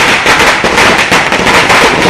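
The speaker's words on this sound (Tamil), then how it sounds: "நிர்ணயிக்கப்பட்ட நேரத்தை கடந்து பட்டாசு வெடித்ததாக சென்னையில் மட்டும் 758 வழக்குகளை போலீசார் பதிவு செய்திருக்கின்றனர்." Firecrackers burst continuously during festival celebrations in Chennai, a dense, loud crackling barrage with no pauses and no voices.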